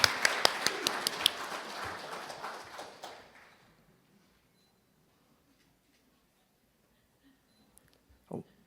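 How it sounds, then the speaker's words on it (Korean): An audience at an agricultural award ceremony applauds, a dense burst of clapping that fades out after about three seconds, followed by near silence and a brief voice. "많이 떨리실 텐데 박수 한 번 더 보내드릴까요?"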